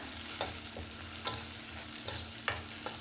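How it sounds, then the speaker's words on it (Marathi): Curry leaves frying with tomato in a pan of oil for a cabbage and pea sabzi, a soft continuous sizzle with regular spatula scrapes and stirs close by. "आता यामध्ये आपण कढीपत्ता टाकूया आणि त्याला 1 मिनिट परतून घेऊया।"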